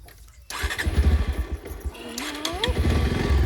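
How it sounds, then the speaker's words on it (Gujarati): A motorcycle engine starts up and settles into a steady idle, close by and fairly loud, with people talking over it at a family outing in a village. "ચાલો આમાં ચાલુ કરીએ બાઇક સ્ટાર્ટ કરીએ"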